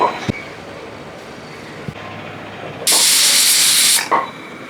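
A pressure cooker cooking jackfruit curry lets out a loud, sharp steam whistle lasting about a second, preceded by faint hissing and followed by a short puff.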